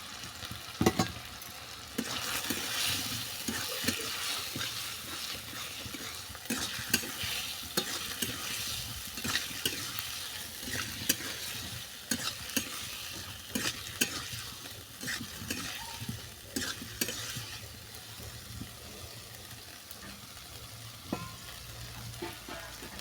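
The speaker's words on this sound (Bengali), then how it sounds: "সবজির সঙ্গে সমস্ত মশলা ভালো করে মিশিয়ে নিলাম" Kohlrabi, potatoes and peas with spices being stirred in a frying pan, a steady sizzle under repeated scraping strokes of the spoon, close and fairly loud throughout.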